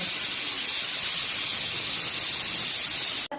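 A pressure cooker whistle releases steam at a cooktop while pav bhaji is being made, giving a loud, continuous high hissing squeal that holds steady for about three seconds and then cuts off abruptly.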